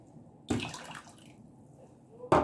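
Boiling water poured into a pan for sugar syrup while making homemade baklava: a sudden splashing gush that tapers into a soft trickle, then a second loud splash near the end, close and fairly quiet overall.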